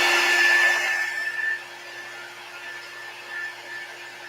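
A heat tool blows a steady, whooshing stream of hot air to warm wax on a pallet board craft. It starts loud and close for about a second and a half, then drops to a softer, lingering hum with no talking.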